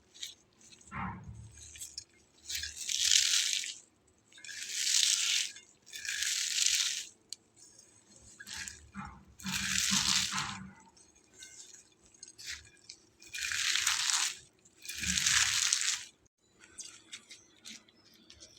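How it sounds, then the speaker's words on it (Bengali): Shredded cabbage mixture squeezed and kneaded by hand in a bowl: a series of about eight wet crunching, squelching bursts separated by short pauses, fairly close and moderately loud. "একটু খুব ভালো চেপে চেপে হাত দিয়ে মাখিয়ে নিতে হবে"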